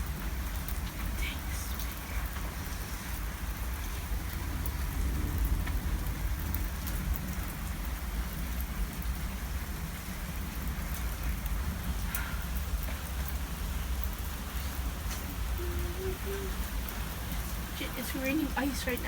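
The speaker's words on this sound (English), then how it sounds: "It's raining ice right now." Large hail pours down outdoors during a huge hailstorm, a continuous dense clatter and hiss of ice striking surfaces that stays loud and steady throughout.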